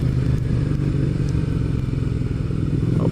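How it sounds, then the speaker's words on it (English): A high-torque motorcycle rides on really wet pavement on a wet morning, its engine rumbling loud and close in a steady low drone with light clatter and road noise. "This is the first time I've ridden on really wet pavement, and bike with a lot of torque."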